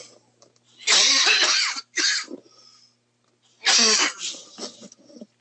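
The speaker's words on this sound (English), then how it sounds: "And I'm going to cough." Two loud, close coughing fits separated by a pause, each a burst of harsh, rough coughs.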